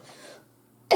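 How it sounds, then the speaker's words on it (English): A single short, sharp cough bursts out close and loud at the very end, following a quiet stretch of faint background hum. "I'm so sorry about the coughing."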